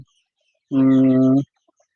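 A single drawn-out cluck from a chicken on a poultry farm, loud and close, lasting under a second amid otherwise quiet surroundings.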